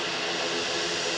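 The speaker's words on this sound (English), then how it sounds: "The Warthog. Listen to this thing, man." An A-10 Warthog jet at Manchester Airport gives a loud, dense, continuous engine roar and whine, close and steady through the short moment.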